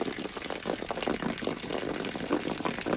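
A duck pond is refilled with a strong, steady rush of water, loud and close, its churning splash running unbroken throughout.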